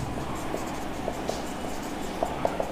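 Pen scratching on paper while working a circle geometry problem, soft intermittent strokes with a few brief taps, close and quiet over a low steady room hiss.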